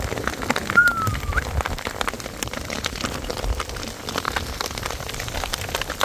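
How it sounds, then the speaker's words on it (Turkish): Hail pelting down outdoors during a sudden storm, a dense, steady patter of many small impacts with occasional louder knocks, continuous throughout with no talking. "Dolu vuruyor"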